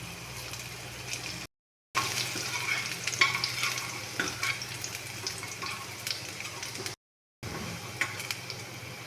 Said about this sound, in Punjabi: ਲਸਣ ਆਪਣੀ ਹੈ ਜਿਹੜੀ ਭੁੱਜ ਗਈ ਆ